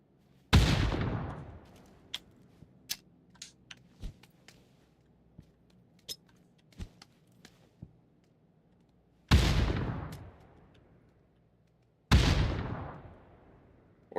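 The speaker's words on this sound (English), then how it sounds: "If he wants to have a nade battle, let's have a nade battle." Grenades go off during a solo PUBG match on Xbox: three loud, sharp blasts with decaying tails, separated by quieter scattered clicks and small impacts, with no talking.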